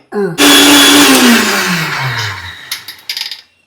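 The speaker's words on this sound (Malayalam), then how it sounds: "ചൂടാറിയതിന് ശേഷം മിക്സിയിൽ അടിച്ചെടുക്കണം മിക്സി അടിച്ചോട്ടെ" A kitchen mixer grinder blends roasted bitter gourd masala with a loud motor whine for about two seconds, then winds down, followed by a few short clattering knocks.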